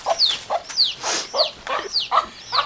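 Several chickens cluck and squawk in short, repeated bursts about every half second, close and fairly loud against quiet farmyard surroundings.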